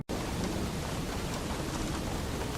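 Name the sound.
thunderstorm with rain sound effect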